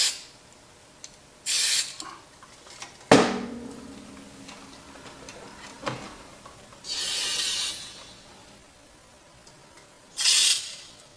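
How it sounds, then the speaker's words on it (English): Short hissing bursts of cleaner spray go into the switches of a Kenwood KA-7100 amplifier, about four separate squirts spaced a few seconds apart, with sharp clicks and handling knocks between them in a quiet room. "I'm going to spray some stuff really good here."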